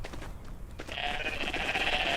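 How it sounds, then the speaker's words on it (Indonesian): A goat in a video game bleats in a long, wavering, nasal cry over a bed of soft clattering game noise, fairly close and rising in loudness as it continues. "Nah nih, goat. Ada kambing sendiri."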